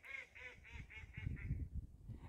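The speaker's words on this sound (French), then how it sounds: "on a les canards que vous entendez qui me tiennent" A run of about six evenly spaced, nasal honking quacks from ducks, close and clear, over a low rumbling background. The calls fade out toward the end.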